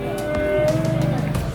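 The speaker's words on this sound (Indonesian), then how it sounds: "Stok sapi potong atau sapi bakalan di Pasar Hewan Glenmore lur." Beef and feeder cattle at a busy livestock market on a Friday, a loud nearby moo rising over the crowded background din of the market.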